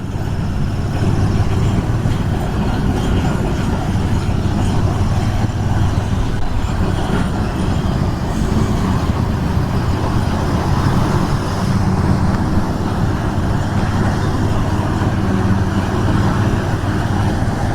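Trucks and dense highway traffic roar past during a long-distance ride on an Interceptor 650 motorcycle near Chennai, a loud continuous road and wind noise with heavy vehicles swelling by.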